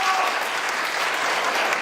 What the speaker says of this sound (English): give her a nice big round of applause for volunteering to come to our school